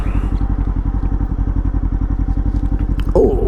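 A motorcycle under way, its engine thrumming in a steady rapid low pulse close by throughout, with a brief clattering scrape near the end.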